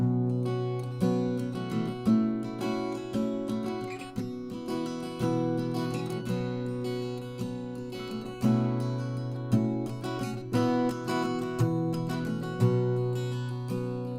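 Steady strummed acoustic guitar playing the ringing chord progression of a song's introduction, with regular strokes, moderately close and quiet, no voices.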